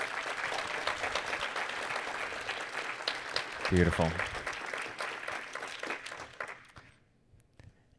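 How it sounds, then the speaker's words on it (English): An audience claps in a dense wash of applause, loud and sustained for several seconds before tapering off into near silence, with someone speaking briefly over it. "Give him a round of applause."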